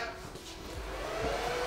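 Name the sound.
loud Teams ISDN gateway unit running at startup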